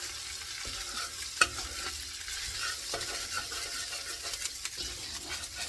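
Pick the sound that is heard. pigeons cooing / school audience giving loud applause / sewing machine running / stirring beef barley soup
stirring beef barley soup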